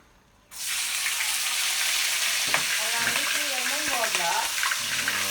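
After a brief quiet moment, a loud, steady sizzle of pork frying in hot oil starts and continues, with faint voices speaking underneath.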